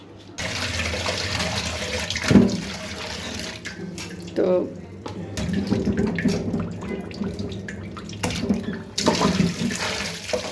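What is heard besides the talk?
water pouring from restored water supply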